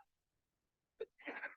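A single sneeze bursts out in a quiet room during a precalculus lesson on inverse functions, sharp and close, following a brief near-silent pause.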